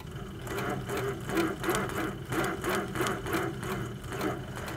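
HQ Sweet Sixteen quilting sewing machine stitching at a larger stitch-per-inch setting, a steady rhythmic whirring with regular needle pulses, close and moderately loud with no talk.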